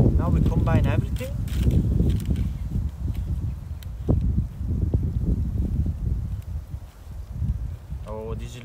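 Gusty wind buffets the microphone outdoors while vegan chocolate cookie dough is being prepared. There is a steady low rumble throughout, with a few faint clinks and bits of voice mixed in.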